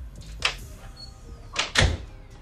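A door bangs shut twice in a home, first a sharp knock and then a heavier, louder slam with a low thud, both close by with no talking.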